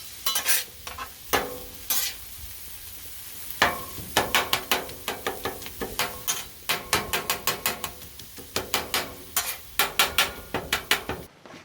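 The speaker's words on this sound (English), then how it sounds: "Throwing down some onions onto the beef." Onions tossed onto beef on a Blackstone griddle for Coney Island dogs, sizzling loudly under a rapid run of metal spatula scrapes and clacks against the flat top, close up and continuous with no voices.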